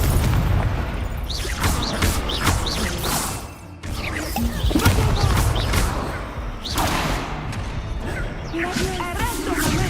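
Repeated Confringo fire-spell explosions in the Hogwarts Legacy video game, loud booms and crashes bursting over dense combat noise and music throughout, with brief dips between blasts.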